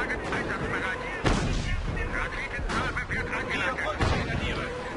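Heavy artillery fire in a Company of Heroes: Tales of Valor battle, a few loud booming blasts over a continuous din of combat and gunfire.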